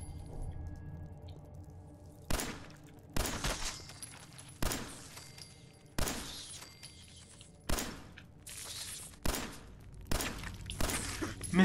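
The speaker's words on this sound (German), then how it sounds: "Ich will mal probieren, wie es aussieht zu schießen" Gunshots in Fallout 4, a series of sharp, loud single shots spaced roughly a second apart over quiet game ambience, each with a brief decaying tail.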